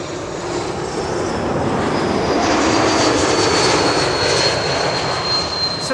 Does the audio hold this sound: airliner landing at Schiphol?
yes